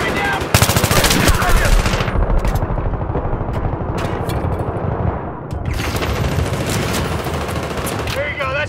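Battlefield 3 gameplay on Operation Metro, where loud sustained bursts of rapid machine gun fire come in long rattling strings with a short lull in the middle, close and dense, with voices mixed under the shooting.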